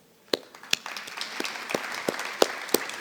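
Audience applause at a university research appreciation event: a few scattered claps grow into a modest, steady round of clapping from a small crowd, moderately near.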